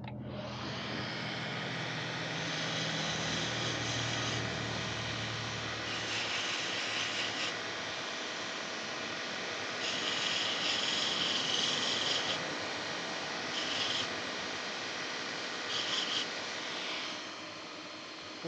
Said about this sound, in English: I'm going to put those on the belt sander and kind of clean that up.